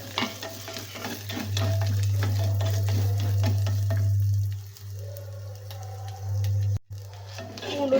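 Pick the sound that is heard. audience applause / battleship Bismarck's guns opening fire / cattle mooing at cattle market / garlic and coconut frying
garlic and coconut frying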